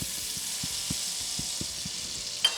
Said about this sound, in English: Mix those around, let the bacon grease give them some love.